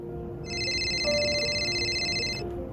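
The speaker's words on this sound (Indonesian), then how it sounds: "Siapa nih yang telepon?" A telephone rings with one sustained electronic trill lasting about two seconds, fairly clear over a low background hum.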